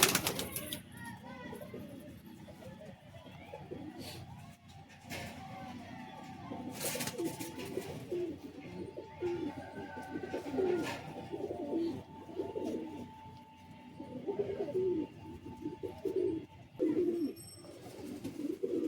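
Pigeons of old-style breeds coo softly and repeatedly inside a loft in Bagnan, with faint flutters and background chatter from people nearby.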